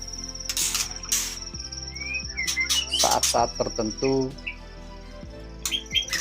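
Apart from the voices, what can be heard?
white-rumped shama (murai batu) chirping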